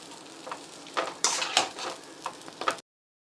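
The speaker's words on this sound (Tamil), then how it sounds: "இப்போது தோசையை போட்டுக்கலாம்." Dosa batter sizzles on a hot pan for Kal Dosa, with crackling bursts and scraping stir sounds in an uneven rhythm, close and moderately loud, ending abruptly.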